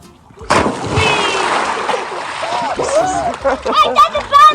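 People jump headfirst into a new backyard swimming pool, a loud burst of splashing and sloshing water followed by lighter splashes, with excited voices shouting and talking over it.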